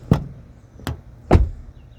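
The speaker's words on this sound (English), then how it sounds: "This one makes the same noise as the other front one, but this one makes noticeably a clunk noise." Three short, solid door clunks from a Toyota Corolla Cross XSE hybrid, evenly spaced about half a second apart, close and moderately loud with no voices.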